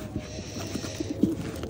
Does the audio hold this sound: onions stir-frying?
no